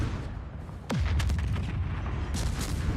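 Naval video game battle as torpedoes launch to port: a sudden deep boom with a falling whoosh, then a sustained heavy low rumble with scattered bursts over continuous game noise.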